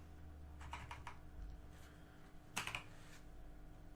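Computer keyboard keys are pressed in quick clusters of clicks, faint and close, with one sharper burst of keystrokes partway through and no voices.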